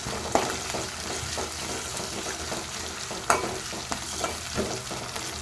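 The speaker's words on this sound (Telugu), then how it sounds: "ఇది పచ్చివాసన పోయేదాకా ఫ్రై అవ్వాలి" Freshly pounded green chilli, ginger and garlic paste sizzles in hot oil for an Andhra-style chicken drumstick curry. The frying is steady and close, with occasional spoon taps and stirs. No one speaks.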